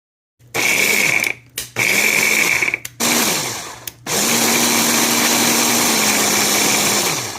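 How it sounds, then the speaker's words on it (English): A food processor chops mushrooms, onions and peppers in a home kitchen, running in several loud whirring pulses with short gaps, then one long continuous run. "I'm actually just going to utilize my food processor here and chop everything up in there"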